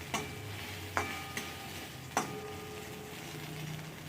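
Spices sizzle softly in a hot pan, interrupted by a few sharp metallic clicks of a spoon scraping and stirring.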